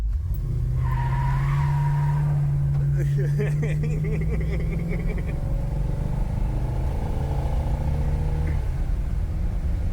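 Tires squeal loudly as a 1974 Chevy Impala does a burnout, its heavy, roaring engine revving steadily, with some talk faintly mixed in.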